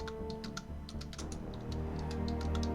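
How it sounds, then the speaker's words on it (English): Quick, light keystrokes on a computer keyboard patter in a steady stream of close clicks, layered over soft background music from a SimCity game. "Sorry if you hear my typing."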